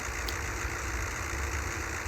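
A KiHa 750 diesel railcar in a train-simulator game runs at full throttle, its engine giving a steady, dense drone and rumble that holds even throughout, with no talk over it.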